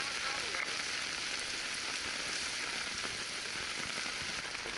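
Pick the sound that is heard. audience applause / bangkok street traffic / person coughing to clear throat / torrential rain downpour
torrential rain downpour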